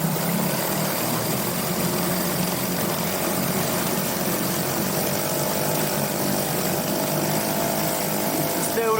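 An old Mariner 4hp two-stroke outboard motor runs in forward gear in warm water, holding a loud, continuous buzzing drone as the revs build under load, nearby and unbroken for the whole stretch.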